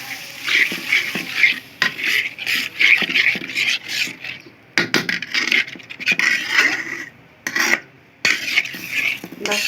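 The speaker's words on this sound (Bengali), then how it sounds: "এবার মশলাটাকে ভালো করে মিশিয়ে নেব।" Spice paste of onion, chili powder, salt and water stirred and mixed in a pan, with repeated scraping, rubbing strokes of a spoon against the pan in uneven bursts and brief pauses, close and fairly loud, no talking.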